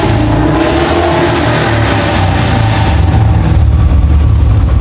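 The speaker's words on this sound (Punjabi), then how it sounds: "ਜਮੇ ਸੁਣ ਪਿਆ ਬਾਈ ਇਹਦਾ ਇੰਜਣ" Royal Enfield Bullet 350 motorcycle with a ticking-sound problem, its engine running loud and close in a continuous steady thump with no pauses.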